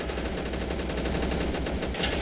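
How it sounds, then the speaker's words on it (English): Rapid sustained automatic fire from a Hotchkiss 25mm gun in a World at War mod of a strategy war game, an unbroken fast rhythmic burst of shots, loud and close, with no talk over it. "That Hotchkiss gun is just retarded. Just fucking sprays for days."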